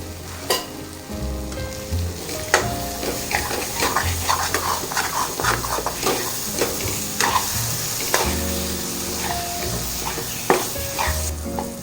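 Masala sizzles and fries in oil for a Tamil egg curry while a spoon stirs and scrapes against the pan, a steady close crackle with frequent clinks and knocks.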